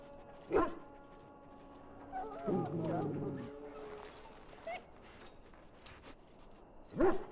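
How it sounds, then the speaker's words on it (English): A dog in the role-playing game Dragon Age: Origins gives short whimpering yelps and whines, a few brief cries spread across the moment, amid voices speaking and quiet game ambience. "Now I can treat the dog properly, poor fella."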